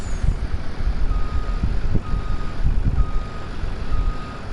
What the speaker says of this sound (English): we got an orange and white semi truck